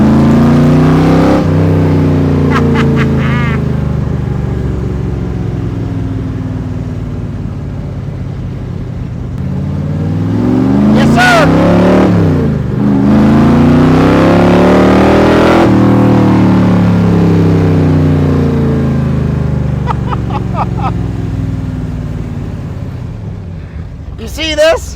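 Factory Five MkIII Shelby Cobra replica accelerating hard, engine pitch climbing through repeated gear pulls under heavy wind rush, with a voice talking over it partway through.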